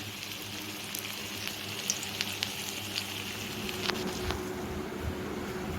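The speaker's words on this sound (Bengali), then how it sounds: "এরকম ছোটো ছোটো করে দেবো। এরকম করে ভেজে নেবো সবগুলো।" Small spoonfuls of pumpkin pakora batter, mixed with green chilli, fry in hot oil in a village kitchen, giving a steady, even sizzling hiss with faint crackles throughout.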